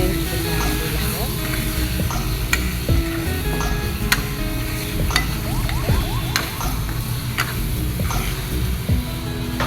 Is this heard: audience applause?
no